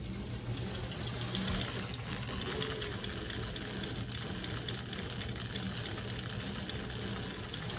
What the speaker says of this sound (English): you can hear the clacking of the smoke unit, the upper part